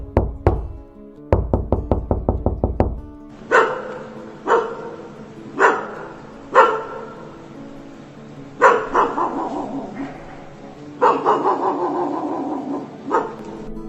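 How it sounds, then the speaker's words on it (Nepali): Several dogs barking loudly outside at night, opening with rapid knocking on a door, then repeated sharp barks and yips spaced apart, fairly close and overlapping toward the end. "बाहिर कुकुरहरूको भुकाइ पनि निकै चर्को थियो।"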